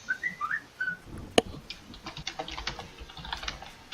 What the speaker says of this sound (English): You hear a sparrow whistle in the distance. yeah, that would be my cell phone.